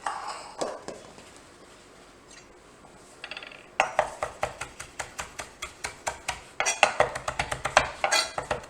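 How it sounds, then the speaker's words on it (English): Fresh garden cilantro chopped with a knife on a board: a few scattered taps at first, then a quick, steady run of sharp close knocks. "I have a little bit of fresh cilantro from the garden here. Just going to chop that up."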